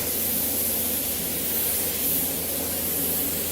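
Steady, loud hiss of a spray gun applying Raptor bedliner coating to the underside of a truck, continuous and close, with no pauses or talking.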